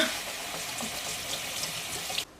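Rice rinsed under a running kitchen tap, a steady hissing stream of water splashing into a sink, fairly quiet and unbroken, cutting off abruptly at the very end.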